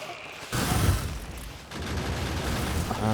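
Video game grenade explosions during a wave defense push, a heavy booming blast that rolls on with a sustained rumbling roar, followed by another swelling burst.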